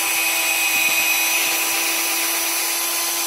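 Power drill with a 3/8 bit boring a hole into wood for N-scale model railroad benchwork, giving a steady, loud, continuous whine with grinding throughout and no talk.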